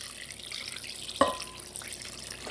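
Warm water is poured into arepa cornmeal dough in a kitchen, with a close, quiet trickle and one brief splash partway through.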